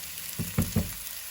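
Onions frying in hot oil in a pan, a steady close hiss with three soft low thumps of stirring or shifting in quick succession, no voices.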